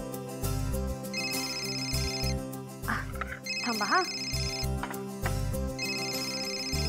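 A phone rings in a home scene of a Marathi TV serial, with repeated electronic ringtone bursts in a regular pattern alongside background music and a brief spoken line.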